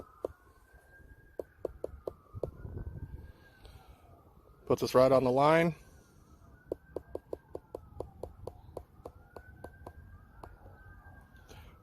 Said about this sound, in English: Sorry about the sirens, guys. Evidently something's happened.